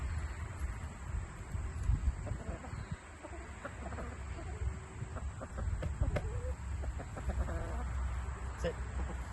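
A flock of chickens clucks and murmurs around a new Premier 1 poultry waterer, with scattered soft clucks and short calls over steady outdoor background noise and occasional faint talk.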